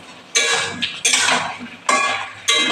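Pumpkin greens curry being stirred in a pan, four distinct scraping strokes of a spoon against metal with short pauses between, close and clear, with no talking.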